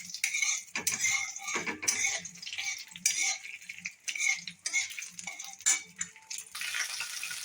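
Spices being lightly stirred in hot oil, a metal spoon scraping and clanking repeatedly against a pan over a faint sizzle, close and uneven in rhythm.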